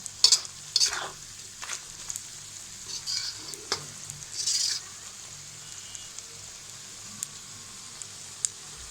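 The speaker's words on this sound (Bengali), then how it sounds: "চুলার আঁচটা লোতে রেখে আলুটাকে আর ঝোলটাকে ভালোভাবে ভেজে নিচ্ছি।" Soft sizzling of potatoes, gravy and tripe frying over low heat in a pan, with scattered scraping and stirring clicks from a spatula; no voices.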